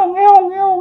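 A human voice imitates a cat screeching in pain: one sustained, strained, wailing tone lasting under a second, loud and close, with no other sound.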